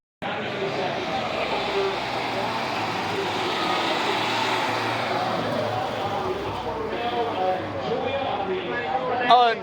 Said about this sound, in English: unmistakable sound of the air-cooled Porsche 911